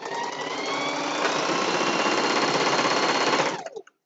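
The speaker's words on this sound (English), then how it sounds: "it's the reason I bought a heavy duty sewing machine" A heavy-duty sewing machine stitches through four layers of fleece in one steady, close, loud mechanical whir that runs for about three and a half seconds before stopping abruptly.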